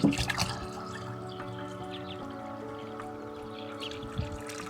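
Water pours steadily into a livestock drinking container on an Appalachian mountain homestead, a continuous trickling and splashing that stays at an even level throughout.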